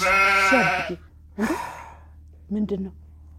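A sheep bleats nearby in three separate wavering calls, the first long and loud, the later two shorter, with quiet pauses between them.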